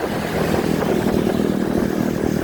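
A ten-year-old Honda motorcycle runs steadily while riding, a continuous mid-pitched engine drone mixed with wind rush, close and fairly loud, with no talk.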